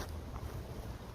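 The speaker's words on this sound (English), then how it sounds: "Here comes that wind." Wind gusts across an outdoor disc golf course, a steady low rumble buffeting the microphone with no talk over it.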